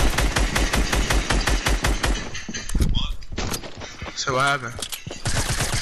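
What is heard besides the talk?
gunfire in Fortnite video game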